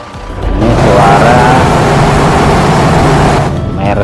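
A heavy Mercedes bus engine in a video game drones steadily for several seconds, a loud low rumble that fades in and cuts off near the end.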